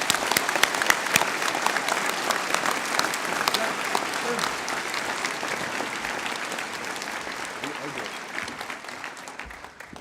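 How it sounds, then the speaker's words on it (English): Sustained applause from a school audience at a Year 12-13 prizegiving honouring top academic students, a dense steady clapping that carries on for about ten seconds and fades slightly toward the end. "Please give them a round of applause"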